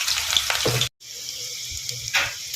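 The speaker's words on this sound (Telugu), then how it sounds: "వెల్లుల్లిపాయలు అయితే ఒక ఆరు తీసుకొని కచ్చపచ్చగా దంచుకొని వేసుకుంటున్నా బాగా హీట్ ఎక్కిన తర్వాతనే వేసుకోవాలి" Crushed garlic dropped into well-heated oil, sizzling loudly up close, then a short silent break before a steadier frying hiss with faint clinks resumes; no voices.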